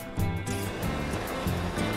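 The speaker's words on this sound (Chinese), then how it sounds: "这个小瀑布到啦" A small waterfall in a desert canyon oasis at Indian Canyons sends a steady rushing splash of falling water, close and continuous, with no talking.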